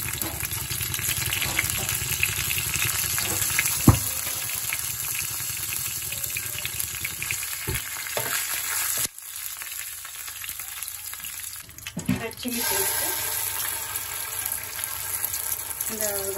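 Cumin and green chilies fry in hot oil for restaurant-style Chicken 65, giving a loud, continuous sizzle with a few sharp clinks and brief breaks.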